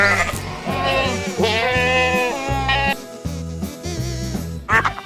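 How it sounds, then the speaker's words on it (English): A goat bleats in a few drawn-out, wavering cries over a rhythmic background music track, close and fairly loud, with no talking. "goat,"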